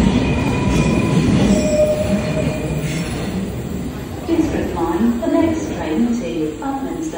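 A London Underground Northern Line train at Bank station rumbles loudly and steadily, its wheels squealing on the rails, while an announcement voice plays over the platform.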